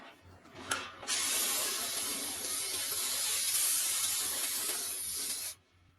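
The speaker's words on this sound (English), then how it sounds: "Spray some more anti-corrosive red paint." Spray gun applying anti-corrosive red paint onto polished planks during restoration of an abandoned military KAMAZ truck: a steady, loud, close hiss runs for several seconds without a break, then cuts off abruptly.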